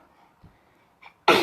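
A single loud, sharp sneeze bursts out at the end, following a couple of faint throat sounds in an otherwise quiet room.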